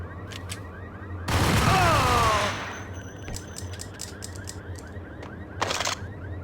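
A Jackhammer automatic shotgun fires in the video game Max Payne: a dense, loud burst of rapid blasts lasting over a second, followed by a quieter stretch with clicks and another short blast near the end.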